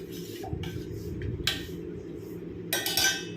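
Grated potato being stirred together in a bowl, with repeated clinks and scrapes of a utensil against the dish in a few short bursts, close by.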